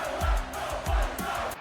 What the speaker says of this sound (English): went all over to get authentic crowd noise,